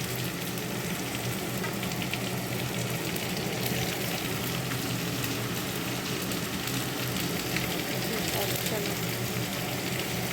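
Pointed gourd and potato fry in a pan with a dense, constant sizzle and crackle, steady and close throughout, with no one speaking.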